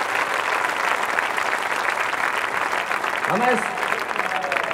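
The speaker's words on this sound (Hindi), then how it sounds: "इनके लिए जरा एक बार जोरदार तालियां बजाएं" Audience at a Hindi comic poetry gathering applauds soldiers standing guard, a broad, sustained crowd clapping at steady volume, with a voice speaking briefly over it near the end.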